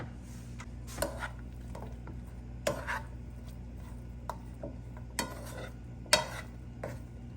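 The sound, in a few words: bacon and meat frying in oil in a pan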